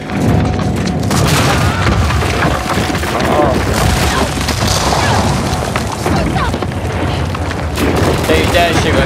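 Gunfire in a firefight in Uncharted 4: loud, dense booming shots and crashes rolling on for several seconds, heavy and close, with voices talking amid the din.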